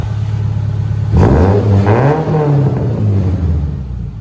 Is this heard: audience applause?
no